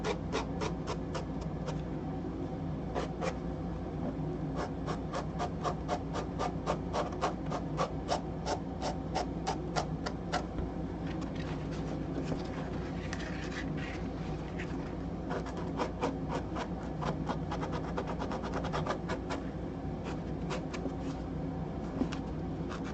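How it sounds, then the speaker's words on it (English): Rapid, rhythmic rasping strokes of sanding foam scrape back and forth up close, coming in quick bursts with short pauses between runs. "sanding in any medium, not just foam, but in wood"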